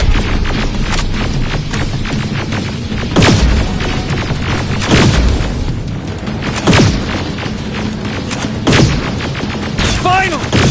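Gunfire in a Terminator Resistance video game: loud, heavy shots ring out in a series of spaced bursts over a dense background of battle noise, with a voice speaking briefly partway through.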